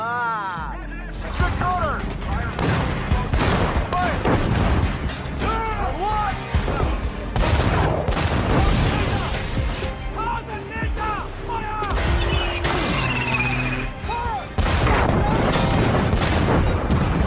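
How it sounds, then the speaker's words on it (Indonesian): Heavy WWII battle gunfire between Allied and German soldiers in a war film with a tank, volleys of shots and booming blasts rolling continuously, loud and dense, with shouting voices mixed in. "Jerman yang memang telah siap berperang mulai menembakkan senjata mereka"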